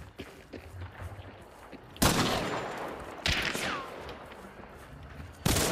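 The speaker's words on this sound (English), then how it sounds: "He's shooting at me." Gunfire in the video game Hunt: Showdown: three sharp, loud shot bursts spaced seconds apart, with a whistling ricochet-like sweep after the second, over a low ambient bed.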